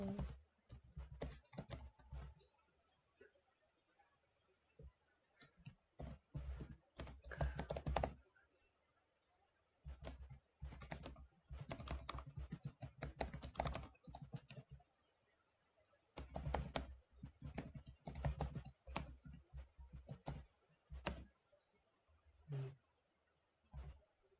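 Bursts of rapid keystrokes on a computer keyboard, clustered into several runs separated by short pauses, close and fairly loud with no talking.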